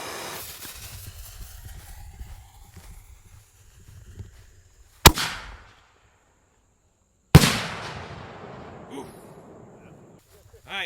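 Fireworks go off at a pyrotechnics gathering: two loud, sharp blasts a couple of seconds apart, each trailing into crackling echo, then fainter pops. Some indistinct talk and background noise come before the bangs.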